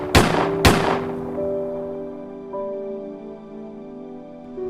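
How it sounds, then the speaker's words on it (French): Two sharp, loud gunshots close together at the start of a historical battle-style narration scene, followed by a lingering low ringing decay with no voices. "un coup de feu retentit"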